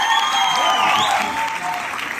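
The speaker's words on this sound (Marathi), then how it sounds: "त्यांच्यासाठी जरा एकदा जोरदार टाळ्यांचा लागेल" An audience at an awards ceremony in a theatre applauds continuously and warmly for Namrata Wagle, a dense, even wash of clapping for about two seconds.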